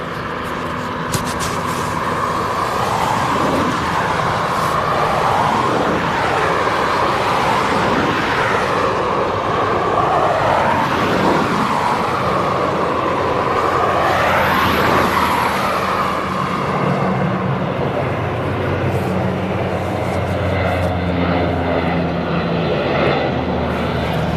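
An airliner departing East Midlands Airport roars loud and steady throughout, a sustained jet engine rumble with rising and falling whine that eases slightly near the end.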